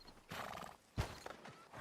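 A horse whinnies in a camp in the Red Dead Redemption II video game, a short neigh followed by snorts and a hoof clop, fairly faint and heard alone.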